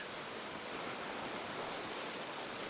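Ocean waves crash onto the rock pools at Caves Beach, filling the air with a steady, loud, broadband wash of surf and spray with no letup.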